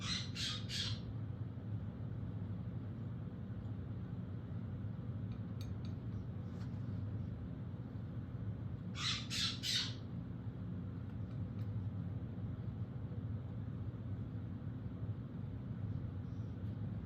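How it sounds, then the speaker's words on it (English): A bird squawks outdoors in two short harsh bursts, one at the start and one about nine seconds later, over a steady low outdoor rumble. No one speaks. "Crazy bird."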